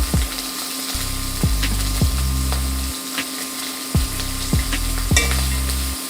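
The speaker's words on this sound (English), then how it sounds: "You should hear a sizzle." Steady, close sizzling of shrimp frying in hot oil, with occasional stirring clatter and a low musical backing underneath.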